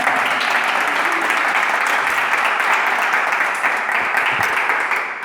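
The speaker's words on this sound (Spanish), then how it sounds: "Un fuerte aplauso." Loud, dense applause from a live audience at an author interview event, a continuous roar of many hands close by that begins to fade at the end.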